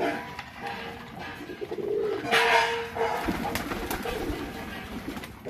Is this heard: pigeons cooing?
yes